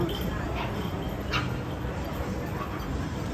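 A dog barks a few times at a distance at a pet fair in a shopping mall, faint against steady background noise and murmuring voices.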